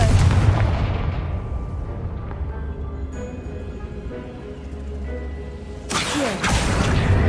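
A Confringo fire spell explodes in the Hogwarts Legacy video game. A loud, booming blast is followed by a long rumbling roar that fades, then another burst of noise near the end.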